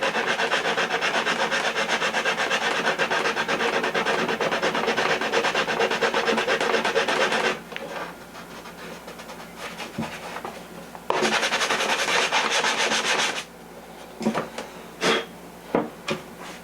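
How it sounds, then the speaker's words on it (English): A model airplane wing is hand-sanded with sandpaper in a long continuous rasping stretch, then a pause with small knocks, another burst of steady rubbing, and finally a few short separate strokes, close and loud. "now we hit it with sandpaper again"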